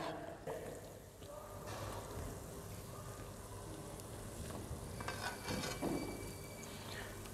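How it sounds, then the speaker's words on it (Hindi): Balushahi dough rounds frying in hot oil in a pan, giving a steady, moderate sizzle and bubbling that runs evenly throughout with a few faint clinks. "बालूशाही बहुत ही अच्छे से फ्राई हो रही है"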